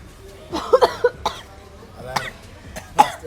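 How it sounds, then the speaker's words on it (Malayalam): A person coughs in several short, sharp bursts with some throat clearing during a sheesha hookah session in Fort Kochi, heard close and loud between brief pauses. "ഞാനിത് വലിക്കുന്നതിന് മുന്നേ ചുമക്കാൻ തുടങ്ങി"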